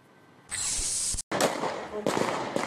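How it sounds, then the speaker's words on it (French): Sharp cracks of police gunfire in a Nice street as officers stop a large truck that had driven into a crowd, loud bursts near the camera with a short gap, mixed with crowd noise. "Les tirs qu'on entend sont ceux des policiers"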